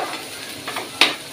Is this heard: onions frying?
yes